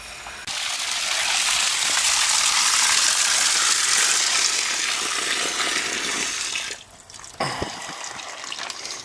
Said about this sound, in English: Water. There we go, water.